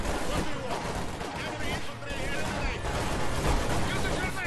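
Dense, continuous gunfire and explosions from the World War II strategy game Company of Heroes 2, a loud unbroken battle din with overlapping bursts throughout.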